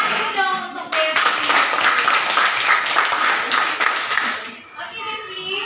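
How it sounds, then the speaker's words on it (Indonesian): Lively applause from a classroom full of students, many hands clapping together for several seconds before fading, with a few children's voices around the edges. "Tangan dulu dong untuk Devi"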